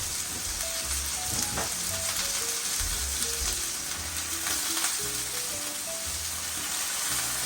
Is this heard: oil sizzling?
yes